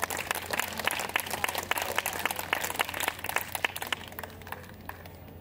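An outdoor audience at an Indigenous Taivoan arts performance claps for the Dahman dance troupe, with sharp, rapid clapping that is strong at first and thins out toward the end.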